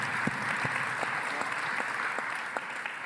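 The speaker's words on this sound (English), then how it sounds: "a round of applause for all of you first-time attendees" A conference audience applauds first-time attendees with steady, even clapping from a medium-sized crowd throughout.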